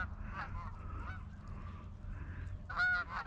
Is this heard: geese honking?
yes